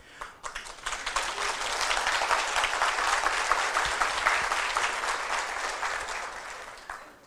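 An audience applauds steadily for about seven seconds, a dense wash of clapping that rises quickly, holds even and fades slightly at the end, heard at a moderate distance with no speech.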